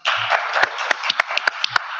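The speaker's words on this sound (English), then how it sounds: "Let's have a big round of applause for our panelists." Audience applauding the panelists at the Geneva Green Cross Conference roundtable, a run of scattered, sharp claps of moderate loudness carrying on steadily for the whole stretch.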